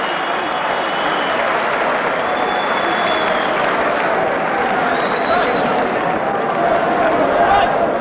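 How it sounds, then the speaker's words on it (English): After a boxing match in Manchester, a large arena crowd keeps up loud, continuous applause and cheering, a dense roar of clapping that holds steady throughout. "I want everybody to give him a great round of applause"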